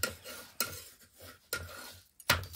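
Finger millet bhakri being turned on a hot griddle, producing sharp separate scraping and tapping knocks about every second, close and clear over a quiet background.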